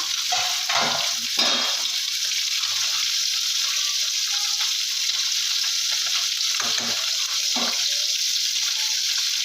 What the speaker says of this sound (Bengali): আবারও আমি দু মিনিটের জন্য ফুটিয়ে নেব